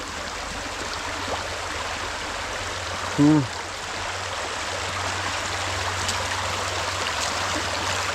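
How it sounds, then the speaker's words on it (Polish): Water flows and splashes continuously in a small forest mountain stream and waterfall nearby, with a brief short voice heard partway through. "Tam jakiś mały wodospadzik"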